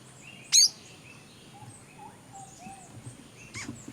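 Wild birds call in the early morning in Belize, a sharp chirp standing out near the start and another faint call near the end over quiet ambient background, with softer distant calls in between.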